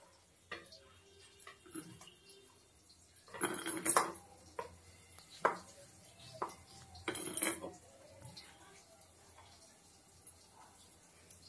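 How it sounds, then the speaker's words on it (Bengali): Ground spice paste is scraped up with a little water and scooped into a bowl in a home kitchen, heard as scattered clinks and scrapes of metal and stoneware, with a few louder clatters among quieter taps. "এই দেখো, এভাবে একটু জল জল বাটিতে রেখে তুলে নিলাম মশলাটা"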